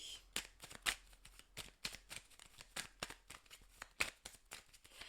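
Belline tarot cards are shuffled by hand in quick riffling bursts, a rapid run of crisp papery flicks repeating throughout, close and soft with no voices.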